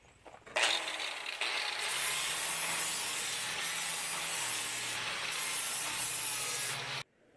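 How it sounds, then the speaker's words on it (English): A flapper disc grinds across a welded steel trailer fender in one continuous close rasping pass lasting several seconds, starting and stopping abruptly, with no talking. "So next, smooth it out with this flapper disc."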